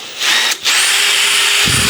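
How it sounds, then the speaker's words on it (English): A flex hone tool spun by a power drill inside a bicycle seat tube to clean out a seized seatpost bore: a loud, steady high-pitched whirring grind with a brief dip, close up and alone. "I'm going to use this flex hone tool instead"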